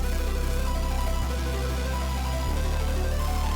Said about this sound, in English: the synths altogether sound like this